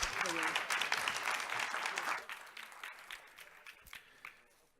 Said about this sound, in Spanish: Nuevamente el aplauso para ellos.